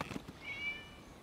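A cat in Genshin Impact gives a single short, faint meow with a thin high tone that trails off, heard alone against quiet game ambience.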